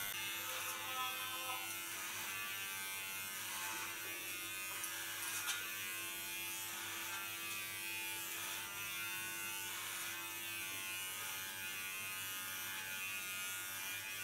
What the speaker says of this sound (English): then gonna work with a clipper